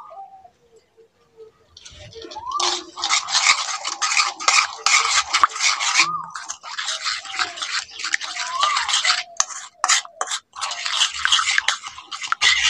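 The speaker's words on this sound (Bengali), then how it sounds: "সব মশলাগুলো তেলের মধ্যে দিয়ে ভালো করে মেশাতে হবে" Spice mix being stirred into sizzling oil in a pan, a dense hissing fry broken by rapid scraping strokes of a utensil, close, with a soft coo-like sound now and then.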